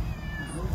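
A pet cat lets out one brief, close meow over a low background rumble.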